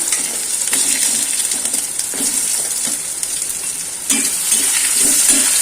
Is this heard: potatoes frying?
yes